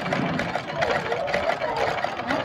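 A domestic sewing machine runs steadily with a continuous whirring motor and rapid needle mechanism, its stitch length having just been adjusted; the sound is close and fairly loud, with no speech over it.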